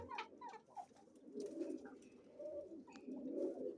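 Soft pigeon coos repeat in low rolling phrases throughout, with a few brief higher bird chirps and clicks over a quiet outdoor background.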